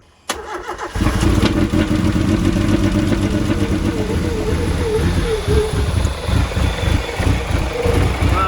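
A Nissan S13 Silvia with a CA18DET engine, fitted with an electric water pump, cranks briefly and catches, then settles into a loud, steady idle with a low rumbling pulse that continues for several seconds, close by.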